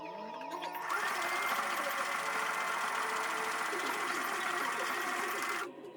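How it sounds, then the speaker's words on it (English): A sewing machine stitches darts in a camel wool skirt, running in one continuous close burst for several seconds and stopping near the end. "I'll take this to my machine and sew the darts."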